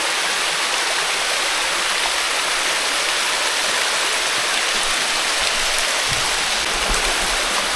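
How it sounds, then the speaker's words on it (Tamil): Maryvine Falls, a small waterfall on Vancouver Island in Canada, pours in a steady, full hiss of rushing water close by, constant and unbroken, with a faint low thump near the end and no talking. "இதுதாங்க நான் சொன்னேன் மேரி வைன் ஃபால்ஸ்"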